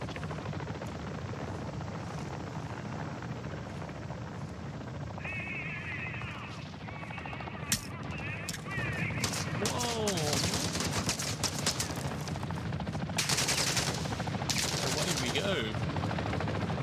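Video game gunfire in Call of Duty DMZ on Ashika Island crackles in rapid bursts over a steady helicopter drone, with sharp shots coming in clusters toward the end.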